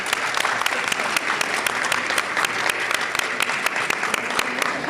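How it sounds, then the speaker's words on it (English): Applause at an opening ceremony, a large audience clapping steadily and densely for the whole stretch, loud and continuous with no talk over it. "let's provide one more big round of applause for our 18 new BPSO"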